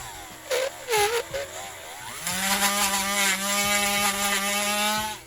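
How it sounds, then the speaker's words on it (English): A Dremel rotary tool grinds away at a plastic action figure part, first in short bursts, then in a sustained, loud high-pitched whine with a buzzing edge that holds for several seconds before trailing off. "I might need to Dremel this one out a little more, actually."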